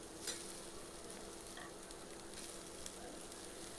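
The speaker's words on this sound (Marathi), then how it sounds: "टोमॅटे आपल्याला दोन मिनटं परतायचं आहे" Tomatoes sautéing in a pan while misal is being made, a steady soft sizzle that stays fairly faint and even throughout, with no one talking.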